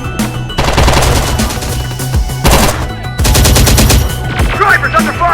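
Loud automatic gunfire in the video game Terminator Dark Fate Defiance, rapid bursts of shots with brief pauses between volleys, close and dominant over the soundtrack.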